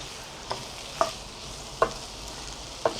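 Salted onions caramelizing in a pan give off a soft, continuous sizzle, while a utensil gently moves them about in four distinct scraping knocks spaced through the stretch.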